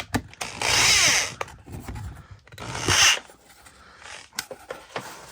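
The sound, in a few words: screwdriver tightening screws on shoulder lamp build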